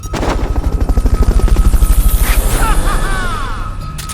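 A Fulton recovery helicopter from the game Metal Gear Solid Peace Walker, its rotor pulsing in a fast, loud, steady beat close by, gradually easing off toward the end.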